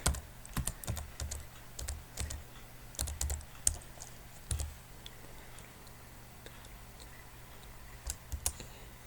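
Computer keyboard keys clatter in quick irregular bursts while DiskPart partition commands are entered to make a bootable USB drive, close and fairly quiet, with brief pauses between runs of keystrokes.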